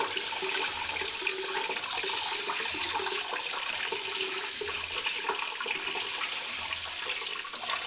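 Water pours steadily over freshly made soft paneer to rinse out the vinegar, a continuous splashing flow like a running tap with no talking.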